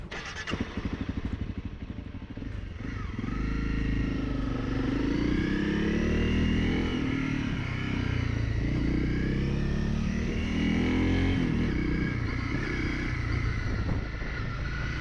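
Honda CRF Rally motorcycle engine starting: a brief clattering crank, then the engine catches and settles into a steady, throbbing idle with gentle rises in revs, close up and continuous, no talking.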